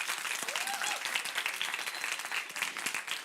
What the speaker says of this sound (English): a big applause to Rapolas and the whole team